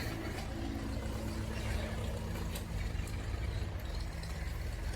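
A tractor working a plough to reshape a rice field embankment drones steadily with a low, even engine rumble throughout, moderately distant and without speech.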